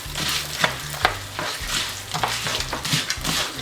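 Eggs being stirred into ramen in a hot pan: a steady frying sizzle with repeated scraping stirs at a regular rhythm, close and fairly loud, with no talking.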